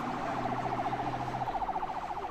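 Emergency sirens from ambulances leaving the scene of a wall collapse at a textile works, escorted by a police patrol vehicle, wailing steadily at moderate distance with a rapid warbling pattern and a low engine hum beneath.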